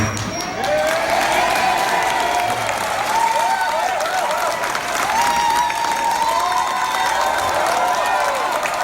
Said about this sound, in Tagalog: Bakit malakas yung palakpak niyo pag sabi ko Speaker ng Pantaleon Alvarez?